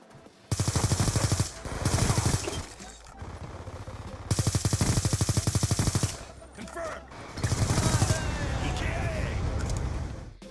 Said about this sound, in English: if you slapped a suppressor on your class, you got one of the coolest, sharpest firing sounds ever for a stealthy gun